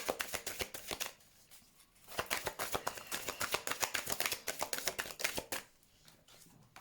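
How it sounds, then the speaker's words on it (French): Tarot cards are riffled and shuffled at close range in rapid bursts of crisp flicking, quieter at the start and finish, with no one speaking. "Allez, on prend quelques cartes pour le domaine relationnel."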